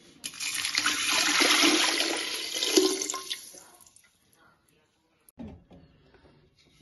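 Water is poured into a clay mud pot being seasoned before first use for Pongal cooking. It makes a steady, close splashing pour for about three seconds, then stops, followed by a brief clunk and quiet.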